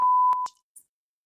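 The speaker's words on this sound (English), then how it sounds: "where's my beep?" A clean electronic beep tone sounds alone, one steady held note followed by a couple of quick short blips and a faint high chirp, loud and close.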